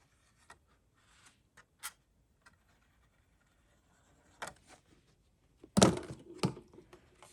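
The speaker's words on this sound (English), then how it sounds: "I'm going to easily just fold this front little pocket here" Paper being creased and folded into the front pocket of a handmade one-sheet Christmas gift card wallet, heard as scattered quiet crinkles, then a louder burst of handling and crisp folding near the end, with no talking.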